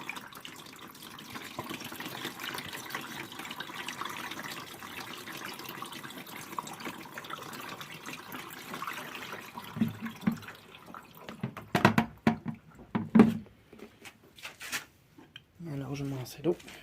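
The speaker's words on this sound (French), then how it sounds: "Et alors je me lance l'eau." Water running into the drum of a washing machine during a tank cleaning, a steady wash of broadband flow for about ten seconds, then breaking into short splashy bursts and knocks near the end.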